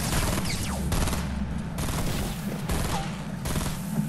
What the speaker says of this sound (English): Oh, it's a burst weapon.